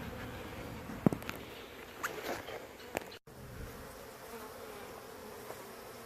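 Honeybees from an old shed hive buzz in a soft, steady hum nearby, with a few sharper close passes and faint knocks.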